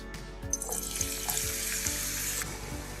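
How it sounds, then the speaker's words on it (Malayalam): Three chopped onions fry in hot oil in a pan while a chicken maharani dish is cooked, giving a steady, close sizzle. Soft rhythmic stirring scrapes run under it, with no voices. "3 സവോള അരിഞ്ഞെടുത്തിട്ടുണ്ട്, അതൊന്ന് വറുത്തെടുക്കാം."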